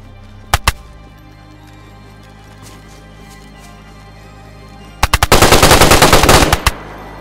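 LAR rifle gunfire in the DayZ video game: a quick pair of loud shots, a pause, then a sustained rapid burst of automatic fire lasting under two seconds, with no talking.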